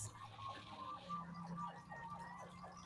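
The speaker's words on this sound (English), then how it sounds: "There's so many sirens." Emergency vehicle sirens wailing outside in Philadelphia, faint and distant, rising and falling in a steady repeating pattern.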